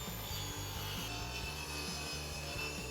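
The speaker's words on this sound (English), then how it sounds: "Now we're going to run this straight edge against the fence and cut a perfectly straight rip right" Table saw ripping a straight edge along a wooden board run against the fence, a close, steady grinding whir with a regular pulsing rhythm, alone without voices.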